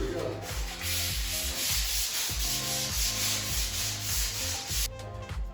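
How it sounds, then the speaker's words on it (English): Sandpaper of 220 grit rubs over a butcher block wood top in a steady back-and-forth rhythm of about a stroke per half second, close and clear with no voices. "take some 220 grit sandpaper and just sand down a smooth and even layer on the top surface of the butcher block"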